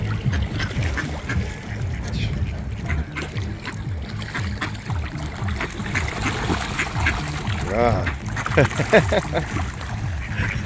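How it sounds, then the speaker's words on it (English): Ducks at Green Lake give a few scattered quacks amid splashing water and outdoor chatter, with a voice talking nearby and the calls fairly close but not loud. "We got drunken ducks at Green Lake."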